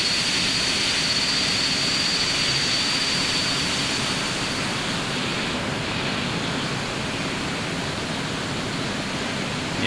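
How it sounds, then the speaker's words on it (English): A jet aircraft roars past in the X-Plane 11 flight simulator, a loud, steady broadband engine rush with a high whine that fills the whole stretch and eases only slightly toward the end. "I'm going to jump outside here. This may be loud. That's the flyby."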